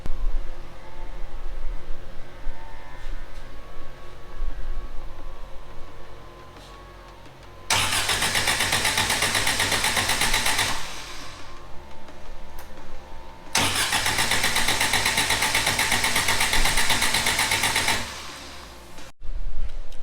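A Suzuki Samurai engine is cranked and fired up during a build. After a quiet stretch, two loud starter-and-run bursts of several seconds each come up close, separated by a lull, with no speech.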